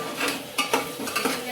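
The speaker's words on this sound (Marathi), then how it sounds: "हे पण असं छान परतून घ्यायचं" Masala sautés in oil in a pan, a soft continuous sizzle broken by a few quick scraping stirs of a spoon, close and brief.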